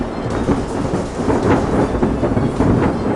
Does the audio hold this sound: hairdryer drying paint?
no